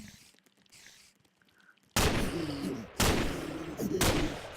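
Three loud, sharp gunshots from a gun in Minecraft's Flan's Mod, evenly spaced about a second apart, each with a ringing tail, following a quieter stretch of faint game ambience.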